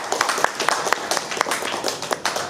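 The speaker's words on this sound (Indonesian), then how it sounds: "Tepuk tangan dong." An audience at a farmers' event claps in scattered, uneven bursts, applause rising and falling over a steady background murmur.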